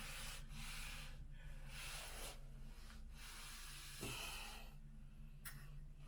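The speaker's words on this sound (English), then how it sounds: "I'm going to sand the rest out," Quiet, steady rubbing and scraping of sandpaper across a drywall patch, in repeated strokes with short pauses, over a low background hum.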